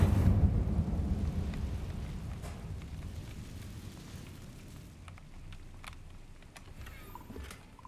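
Incendio fire spell in Hogwarts Legacy bursts with a loud rumbling whoosh at the start, then fades into a long crackling, roaring tail that slowly dies away, with no talking.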